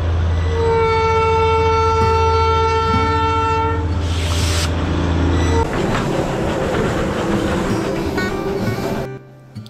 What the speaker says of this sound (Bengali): চলে এলাম Darjeeling station, Darjeeling Himalayan railway